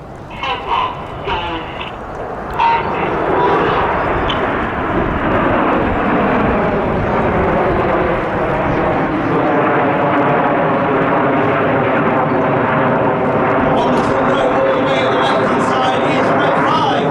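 RAF Red Arrows jets flying in formation at the Midlands Air Festival, a loud sustained roar of engines that swells and holds steady overhead with a rumbling broadband wash.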